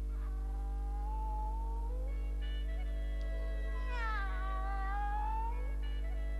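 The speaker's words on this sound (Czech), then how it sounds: "No ale jestli pak ještě vůbec umím mňoukat." A black tomcat meows several times, drawn-out, wavering cries that rise and fall, heard clearly over a steady low hum with no talk.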